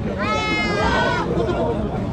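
A goat gives a single drawn-out, wavering bleat close by, rising over a background of people chatting and general outdoor bustle.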